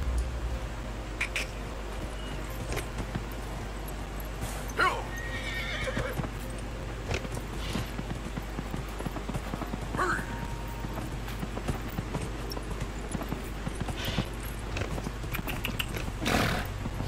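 A horse in the video game Dragon Age Inquisition whinnies several times while its hooves clip-clop, with game ambience beneath and scattered sharp impacts.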